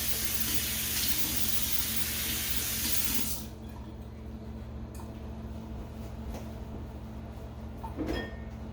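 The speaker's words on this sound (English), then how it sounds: "I'm gonna rinse off my hands real quick." Hands are rinsed under a running kitchen tap, a steady close splash that stops abruptly partway through, followed by quieter room tone with a few light knocks.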